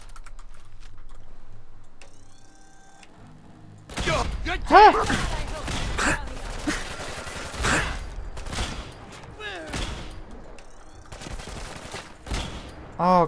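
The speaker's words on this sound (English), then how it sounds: "I'm going to try the new Gauss rifle." Gauss rifle shots in the video game Fallout 4 arrive as a few sharp, loud cracks after a quiet start, surrounded by game effects and clicking.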